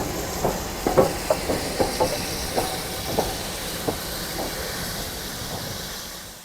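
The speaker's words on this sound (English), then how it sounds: "Comes standard class 5, backing up, and then it's going to go round to the front off the train again" A Standard Class 5 steam locomotive backing up at the Loughborough end of the Great Central Railway gives a string of irregular clanks and soft chuffs over a steady steam hiss, at moderate distance and fading out, with no talk.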